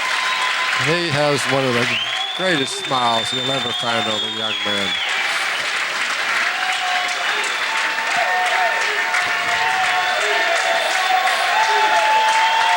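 Standing ovation at the 1992 U.S. Open 9-Ball Championship finals, steady loud applause from a large pool tournament crowd running throughout, with a commentator speaking over the first half.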